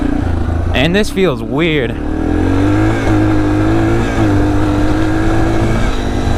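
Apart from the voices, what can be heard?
Yamaha TTR230 dirt bike engine running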